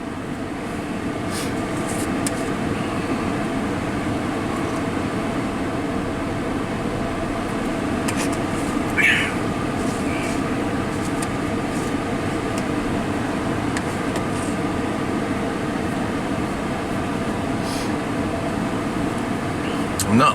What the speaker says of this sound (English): Turned the air conditioner on.